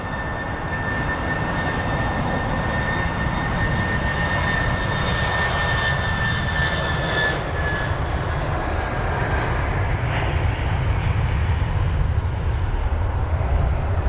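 A 20-year-old Airbus A319 airliner departing for Belgrade roars steadily in a loud, continuous broadband rumble with a thin whine above it. The sound holds for the full length with no voices.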